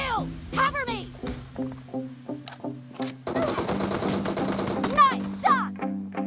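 Gunfire in a PUBG Mobile team deathmatch comes as sharp shots and rapid bursts layered over a sung rap vocal, ending in a dense stretch of automatic fire.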